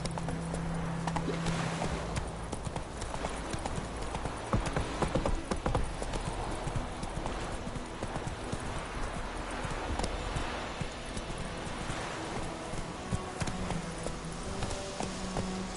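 Hooves of a galloping horse in a PS4 video game keep up a steady, rapid clip-clop for the whole stretch, mixed with game music and ambience and the odd faint whinny.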